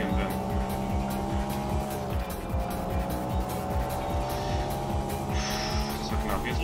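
A racing car engine in the video game Tokyo Xtreme Racer 3 whines loudly, climbing in pitch through repeated gear shifts, with brief tire squeal as the car corners at speed.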